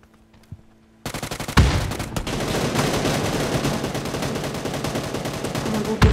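Automatic gunfire in the mobile battle royale game New State Mobile: after a second of near silence, loud continuous rapid bursts erupt and keep firing steadily to the end, with one heavier blast early on.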